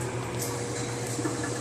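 Fish soup stock for seafood chowder boils in a pot on the stove, a steady low bubbling churn with faint irregular pops and a background hum, close and continuous.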